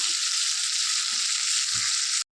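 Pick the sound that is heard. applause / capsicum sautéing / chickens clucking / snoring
capsicum sautéing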